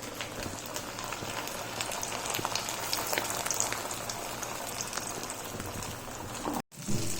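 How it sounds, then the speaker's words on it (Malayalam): Chicken pieces deep frying in hot oil for a homemade KFC-style recipe: a soft, steady bubbling crackle with scattered pops, fairly faint, cut by a brief thud and pause near the end. "അപ്പോൾ നമ്മൾ ചിക്കൻ ഇതവിടെ ഡീപ്പ് ഫ്രൈ ആയി റെഡി ആയിക്കൊണ്ടിരിക്കുകയാണ്."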